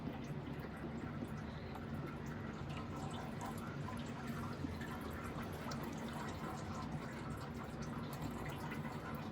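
Oil glugs steadily into an engine as a quart is poured in, with a continuous liquid rush and faint dribbling at close range, no talk.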